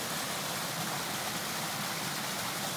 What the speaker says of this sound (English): Here's a pretty waterfall.